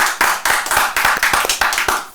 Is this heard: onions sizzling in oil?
no